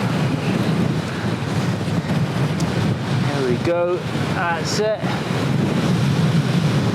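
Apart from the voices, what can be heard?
strong wind blowing outdoors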